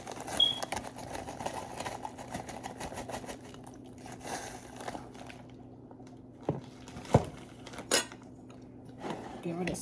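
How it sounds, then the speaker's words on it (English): Stirring rice vinegar and brown sugar in a bowl, a spoon clinking and scraping against the dish in irregular taps with soft rustling between, close and moderately quiet. "give it a stir."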